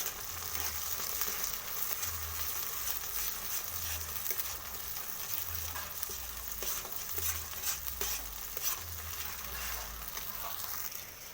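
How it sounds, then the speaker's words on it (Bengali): Colocasia paste with turmeric and salt is stir-fried in a pan, with a continuous sizzle and a regular rhythm of soft spatula scrapes and thumps repeating about every second. "এরপর এটাকে আমি ভালো করে নাড়িয়ে ভেজে নেব"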